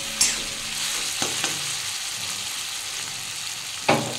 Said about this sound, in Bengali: আমার পেঁয়াজটা ভাজা হয়ে গেছে, আর টমেটোটা নরম হয়ে গেছে